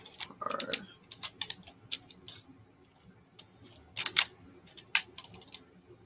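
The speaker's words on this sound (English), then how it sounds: "I shuffle the tarot." A deck of tarot cards being shuffled by hand, giving soft irregular riffling clicks and snaps in short bursts, close and quiet in an otherwise still room.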